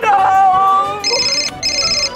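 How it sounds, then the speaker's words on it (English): A phone ringtone plays loud and close, an electronic melody followed by two bursts of bright repeating ring tones with a short gap between them. "Phone call? I got a phone call!"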